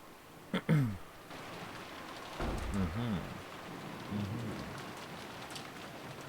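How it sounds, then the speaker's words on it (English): Heavy rain pours steadily in the Umineko When They Cry visual novel, a constant hiss of falling water with faint rumbling patches and a brief sharp sound near the start. "Outside, the rain poured down heavily."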